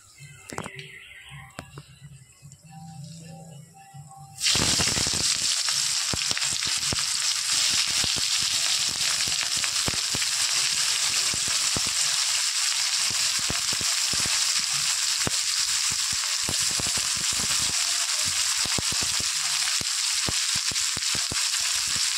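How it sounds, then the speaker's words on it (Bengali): Chopped onions hit hot oil with whole garam masala and cumin for mutton kosha, bursting into a loud, continuous sizzle after a few seconds of quieter kitchen sounds with a voice. "পেঁয়াজটা আমি একটু হালকা লাল করে ভেজে নেবো"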